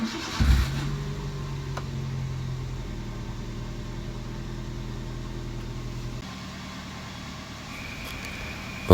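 A car engine cranks briefly and catches after a battery replacement, then settles into a steady idle that drones on for several seconds, close and fairly loud, with no talk over it.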